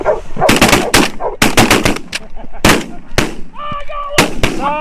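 Shotgun blasts during a spring snow goose hunt, a rapid volley of sharp, loud close reports in quick bursts, with geese calling and hunters' voices in between.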